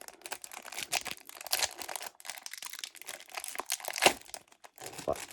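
Crinkling and tearing of a Pokémon Ultra Premium Charizard card pack wrapper, close and fairly quiet, with irregular crackling bursts and a few sharper rips.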